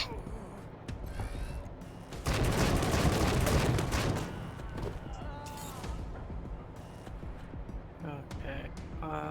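Gunfire in the turn-based game Wasteland 3 comes as a dense, rattling burst of shots lasting a couple of seconds, with mechanical clicks and creaks before and after.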